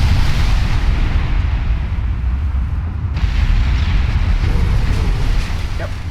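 Torpedo hits against a warship's torpedo protection in Ultimate Admiral Dreadnoughts, a heavy, sustained rumble of explosions that stays loud and dense for the whole stretch.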